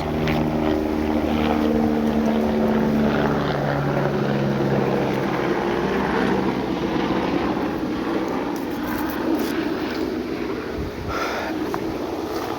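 Steady, loud helicopter rotor and engine drone overhead with a low throbbing hum, continuous throughout with rustling of falling leaves on top.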